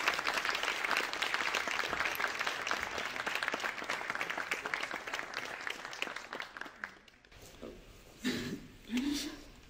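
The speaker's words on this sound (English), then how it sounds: "please give a very warm applause for Luis de Guindos" An audience applauds steadily to welcome the Vice President of the European Central Bank onto a stage, dense clapping that fades out after about seven seconds into a quiet room with a cough and faint voices.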